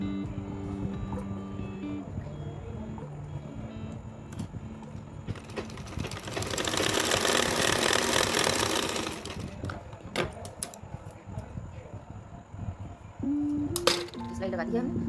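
A sewing machine stitches a two-inch seam in a single loud, continuous whirring burst lasting a few seconds, with scattered clicks and handling sounds before and after.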